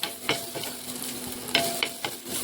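Coconut pieces frying in oil in a pan, a soft steady sizzle with a few stirring scrapes and clicks at intervals, close and moderately quiet.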